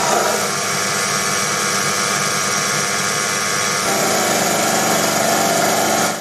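Proxxon PD 250/e lathe turning a shoulder on a toolpost, a loud continuous broadband motor-and-cutting drone that holds steady throughout with a slight change in tone midway, no talk.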